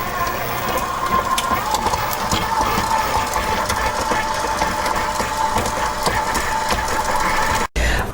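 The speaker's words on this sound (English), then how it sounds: "I have some softened butter in here, and I'm going to mix it until it becomes light and fluffy" An electric mixer creaming softened butter until light and fluffy for oatmeal cookies, giving a steady, unbroken motor whir with faint rattling beaters, close and constant throughout.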